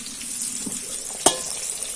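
Mangalore-style fish curry masala bubbling in a pot, a soft continuous simmering hiss with faint pops and one sharp clink partway through, with no voices.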